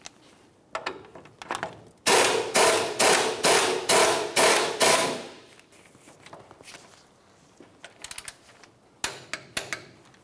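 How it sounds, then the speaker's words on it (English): A wrench tightens the outer tie rod end nut on a 2004-2015 Nissan Titan steering rack, making a close, loud run of sharp, evenly spaced metallic bursts, with scattered lighter knocks before and after. "Now we can bottom this out and then torque it to 63 foot-pounds."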